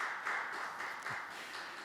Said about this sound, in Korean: 여러분 축하의 박수를 부탁드립니다